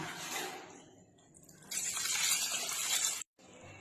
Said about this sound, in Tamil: இப்போ தேவையான அளவுக்கு தண்ணி சேர்த்துக்கலாம்